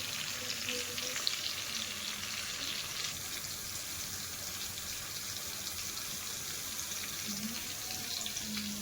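Coriander leaves go into a hot dal tempering, giving a soft, steady sizzle like running water that holds at an even, fairly quiet level without breaks.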